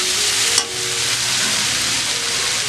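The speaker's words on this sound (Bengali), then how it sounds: "আমি সবজিগুলো আবার নাড়াচাড়া দিয়ে নিচ্ছি, দেখবো আমার সবজিগুলো সিদ্ধ হলো কিনা।" Vegetables frying in a pan, a constant close sizzle with a single sharp utensil knock early on as they are stirred.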